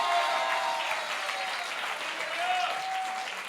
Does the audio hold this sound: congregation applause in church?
yes